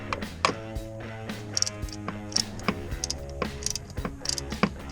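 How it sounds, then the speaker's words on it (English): Ratchet with a 10 mm deep socket backing out a glow plug bolt on a 6.0 Power Stroke diesel, a run of close, crisp clicks with a rattling mechanical tick, no talk. "So you throw a 10 millimeter deep well in there, unthread it, and then pull it out with a magnet."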